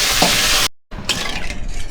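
Fish frying in a pan for a spicy fish dish: a loud, close hiss of hot oil with stirring scrapes, broken by a short cut of silence before the sizzling resumes, with no voices.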